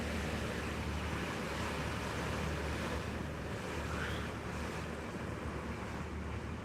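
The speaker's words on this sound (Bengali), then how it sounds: "বাট প্রচুর পরিমাণ ঢেউ হচ্ছে আর বৃষ্টি হইতেছে" Heavy surf crashes continuously at Cox's Bazar during a low-pressure storm with rain, steady wind rushing over the microphone, a dense, unbroken roar with no voices.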